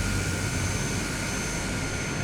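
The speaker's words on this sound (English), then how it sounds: "We are in the Cessna 208B Caravan," Steady drone of the single-engine turboprop of a Cessna 208B Caravan in Microsoft Flight Simulator 2020, a constant loud engine hum heard alone.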